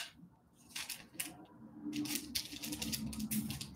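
Backing being peeled off craft pieces, a series of faint, close dry rips and crinkly tearing noises with short pauses between them, heard alone with no talk.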